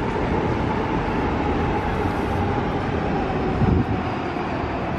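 A busy Tokyo train station at rush hour on a Monday morning gives a steady, loud rumble of a passing train and station noise, with no voices standing out.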